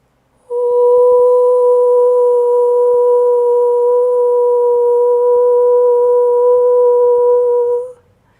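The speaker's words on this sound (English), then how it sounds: "learning how to stabilize a frequency in a pure sine wave using the sound O" A single voice holds a steady, pure "oh" tone for about seven seconds, smooth and unwavering, then stops cleanly.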